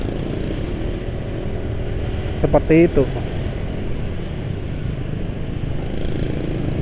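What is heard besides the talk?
car engine idling smoothly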